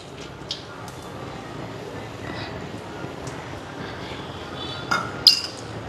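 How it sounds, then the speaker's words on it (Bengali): An iron kadai being handled on a kitchen stove for cooking a curry, with faint clinks and a couple of sharper metallic knocks near the end over a low background hum. "তরকারিটা বসাই দিয়ে আজকে লোহার কড়াই নিছি।"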